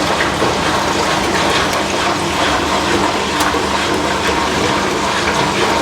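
A 1996 Whirlpool and a Kelvinator K605 washing machine spin together, giving a continuous whirring, watery mechanical roar with faint clicks and rattles, steady and close throughout.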